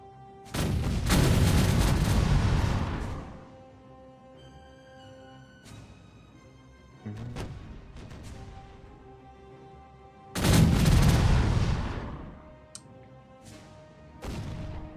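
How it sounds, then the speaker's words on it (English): Ship cannons fire volleys in the pirate game Caribbean Legend: Age of Pirates during an attack on a fort. Loud booming salvos arrive in several bursts with quieter single shots and fading rumbles between them. "Popping cannons every volley."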